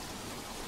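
Heavy water pouring down fast during an August 2017 hailstorm in the Rutherford area of Edmonton, a steady dense rushing wash with no letup, close and fairly loud.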